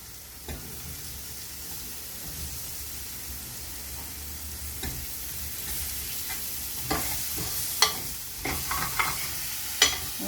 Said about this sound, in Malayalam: ഒന്ന് ചെറുതായിട്ട് ഇങ്ങനെ ഇളക്കിയിട്ട് നമുക്ക് ഇതിൽ തന്നെ മുള്ളങ്കി ചേർക്കാം